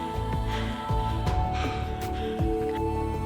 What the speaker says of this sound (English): Just wanted to get at least one coughing fit on camera to demonstrate what they're like.